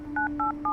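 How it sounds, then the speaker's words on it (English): A telephone dialed by hand gives three short, even touch-tone beeps in quick succession, heard close and clear over a steady tone. "On a hunch, Taylor picks up the phone and dials."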